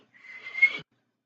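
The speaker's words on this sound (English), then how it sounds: "I'm gonna whistle, guys." A person whistles loudly for a little under a second, one sustained high note that rises toward the end and stops abruptly, heard alone.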